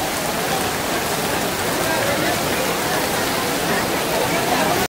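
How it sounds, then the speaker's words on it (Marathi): Heavy rain pours down at an outdoor event, a dense, steady roar of falling water heard close and loud without a break. "आता किती पावसाने खूपच जोर घातलेली आहे"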